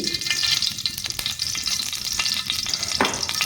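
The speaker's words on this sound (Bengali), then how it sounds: "পুরটা বানানোর জন্য আমি একটা কড়াই বসিয়ে দিয়েছি দিয়ে দিব ঘি" Hot ghee sizzles and crackles steadily in a wok, with a few scraping stirs, close up and without talking.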